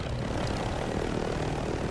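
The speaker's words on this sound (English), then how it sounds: "Just got the chopper." A helicopter in the video game Warzone gives a loud, continuous rotor and engine drone that stays steady and close throughout.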